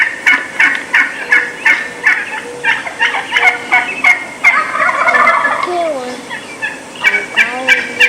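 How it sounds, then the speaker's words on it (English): Wild turkey hens yelp in an assembly call, a rapid series of raspy, rhythmic notes repeated loudly and close by, with overlapping calls from several birds. "So if you listen to the hens yelping,"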